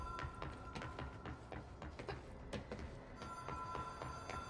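A telephone rings in the video game Control, a bell-like tone sounding in repeated bursts over a steady background hum, fairly faint and unaccompanied by talk.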